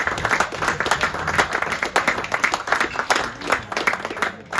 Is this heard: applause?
yes